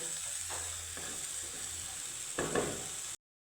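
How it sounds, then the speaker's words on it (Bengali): Jaggery melts in a pan with a faint, steady sizzle and a few soft stirring scrapes, close by and alone before it cuts off abruptly. "গুড়ের সাথে আমি এখন নাড়িয়ে চাড়িয়ে সুন্দর করে গুড়টাকে গলিয়ে নেব"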